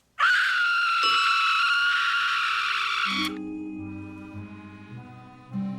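A long, loud, sustained scream in a comic film scene by the Coen Brothers, held for about three seconds, then cutting into low droning music or a horn-like tone.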